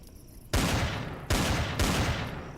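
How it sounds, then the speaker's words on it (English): Gunfire in the sci-fi survival game Empyrion: Galactic Survival, with three loud, close bursts of shots in a row, each cutting in sharply and then trailing off into a rumbling echo. "Okay, so it's shooting over my head."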